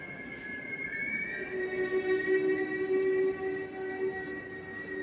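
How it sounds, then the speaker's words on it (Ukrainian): An electric commuter train at Berlin Hauptbahnhof station gives a steady rumbling hum with sustained tonal whine from its motors, fairly loud and continuous throughout, with no talk. "Берлін Хаубангоф електричка."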